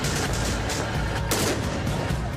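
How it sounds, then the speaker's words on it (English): Firefight with AK-47s, mortars, RPGs and PKM light machine guns, a dense unbroken roar of overlapping gunfire and rapid bursts, loud and continuous with a sharper crack near the middle. "It's a vicious firefight."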